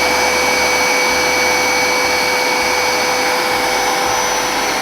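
A carpet cleaning machine washes carpets with a loud, continuous whirring drone and a steady high whine, and a low motor hum rises and falls beneath it.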